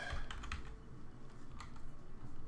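Quiet typing on a computer keyboard while playing Kerbal Space Program, a short run of soft, irregular key clicks close by.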